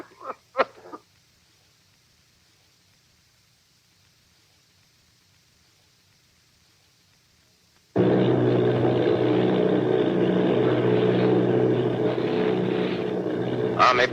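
The steady drone of an army bombing plane engine in a radio drama cuts in suddenly after near silence and a few brief sounds, a dense, loud, continuous roar with a rough low hum that holds without letting up.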